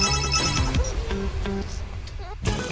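A phone ringtone chimes in a short melodic burst over game music and effects, fairly loud and close, with a brief rising tone near the end.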